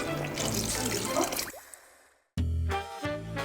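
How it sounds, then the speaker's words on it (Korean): Beef bone broth and water pour into a pot for seaweed soup: a steady liquid gush that thins out and stops, then after a brief silence a second heavy splashing pour begins. "요거 사골 350g 넣고 그리고 물은 1000리터인데 700리터 넣어줄 거야."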